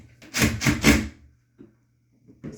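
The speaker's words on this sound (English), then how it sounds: "So I'll screw it in real quick." A ceiling fan ball-joint bracket is screwed into the ceiling, heard as three close, rough rubbing and grinding bursts followed by a few faint taps.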